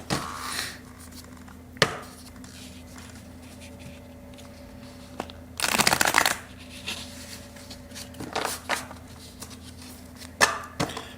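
Tarot cards are shuffled close up in a quiet room: a few sharp riffling bursts and taps, with soft handling noises in between.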